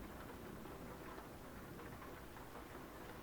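Steady rain in Euro Truck Simulator 2 hisses evenly across the whole stretch under a low rumble, continuous and fairly loud with no talk over it.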